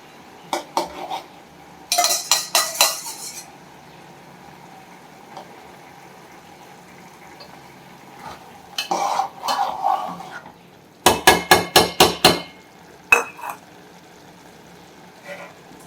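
A spoon clatters and scrapes in a pan as egg is stirred into a ridge gourd stir-fry, coming in quick metallic bursts of clinks separated by quieter stretches of soft sizzling.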